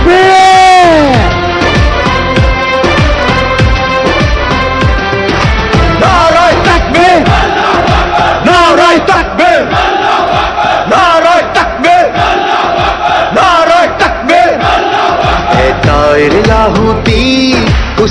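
A large political rally crowd roars back a loud, sustained chorus of chants in answer to a Nara-e-Takbir call, with massed voices swelling and repeating over the full stretch, dense and close.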